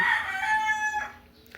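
A rooster crows nearby, one drawn-out call that trails off, followed by a faint cluck.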